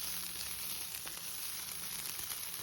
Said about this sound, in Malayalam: നമ്മൾ ക്രഷ് ചെയ്ത് വെച്ചിരിക്കുന്ന ചിക്കൻ മുഴുവനും ഇതിനകത്തോട്ട് ഇട്ട് കൊടുക്കുക